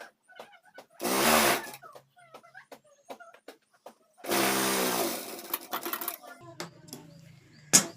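A sewing machine stitches the sleeve of a full-sleeve nightie in two short, close, whirring runs separated by a quiet stretch with scattered small clicks and handling noises.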